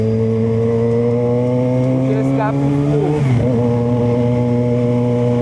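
A Yamaha XJ6 motorcycle fitted with a full aftermarket exhaust revs loudly up close, a steady rumbling idle that climbs and then drops back in one sharp blip, with brief talk over it.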